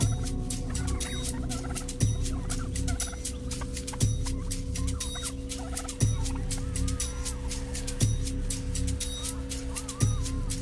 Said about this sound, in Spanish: Los pavos de matorral son comunes en los estados australianos de Queensland y Nueva Gales del Sur